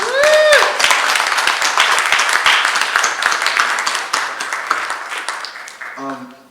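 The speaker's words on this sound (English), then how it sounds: "Let's give them another round of applause." A crowd applauds with dense, steady clapping that gradually thins out, a brief voice heard at the start and end.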